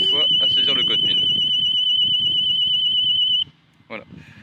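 Husqvarna Automower 450x robotic lawn mower's onboard anti-theft alarm sounding as a loud, continuous high-pitched electronic tone for several seconds before cutting off abruptly, with a person talking over it.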